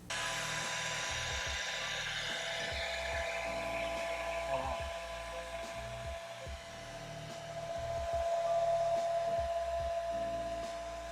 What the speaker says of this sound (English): now I'm going to take the blow dryer on a hot setting and see what happens.